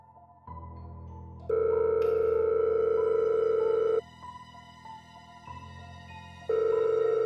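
A telephone rings on an unanswered call, a repeated electronic ring tone sounding in steady bursts with short pauses between them, clear and close, with no voices.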